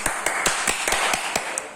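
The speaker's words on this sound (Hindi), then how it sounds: "इसके लिए भी एक बार जोरदार ताली बजाकर स्वागत करेंगे" Audience applause welcoming the sponsors of a prize at a quiz competition results event, with scattered sharp claps rising over a steady wash of clapping, fairly close and moderately loud.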